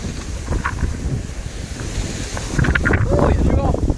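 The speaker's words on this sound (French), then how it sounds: "Oh, il y a du vent." Wind gusting outdoors beside a beehive during winter varroa treatment, a steady broadband rush that swells louder toward the end, with handling knocks and rustling mixed in.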